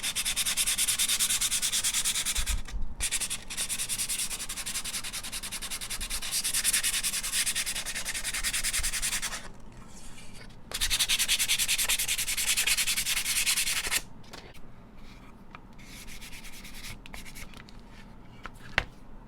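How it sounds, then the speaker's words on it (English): Steady hand sanding of painted wood on a fall scarecrow craft, a dry rhythmic rubbing scratch close up, with a few brief pauses and a quieter stretch near the end. "You want to sand before you do the eyes"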